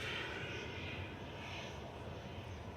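A plane taxis to its stand at Manchester Airport, a steady, faint engine drone holding for the whole clip, distant and unbroken.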